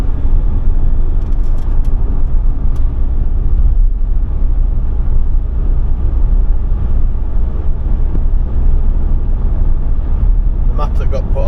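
Remapped Ford Transit Custom van with a new turbo driving on the road, a loud continuous engine drone and road rumble with wind buffeting, heard from inside the cab.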